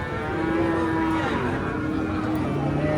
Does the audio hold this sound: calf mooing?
yes